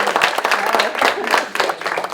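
An audience at a mentalist's show for an adult social center claps in a loud, dense burst, filling the whole moment with steady applause.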